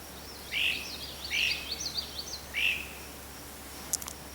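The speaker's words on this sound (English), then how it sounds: "There are so many birds down here" Three short, bright bird calls ring out at intervals against a quiet background by a pond, with a faint high chirp near the end.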